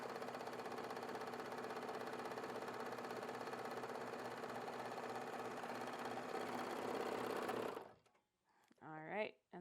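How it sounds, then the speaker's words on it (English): A Baby Lock Vibrant serger gathers fabric with a loud, steady mechanical whir that runs for about eight seconds, then cuts off as a voice speaks briefly. "now this beautiful piece of fabric is going to be gathered in no time"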